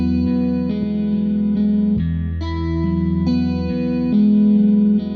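An electric guitar plays chords and single notes through Cinedream software amp simulation, a processed tone with chorus, echo and mild distortion, sustained and clean-ringing.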